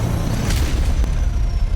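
A loud, dense boom in Dune: Awakening as an ornithopter is shot down by an AA gun, a sustained rumbling explosion with a sharper burst about halfway through, heard alone with no talk.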